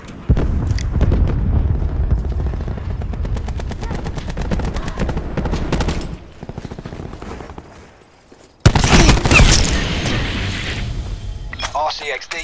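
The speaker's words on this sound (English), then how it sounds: "Cluster grenade. Enjoy." Cluster grenade blasts in Call of Duty Black Ops 4 multiplayer, amid heavy rapid gunfire and booms, with a loud burst of explosions near the end; voices are heard over the combat.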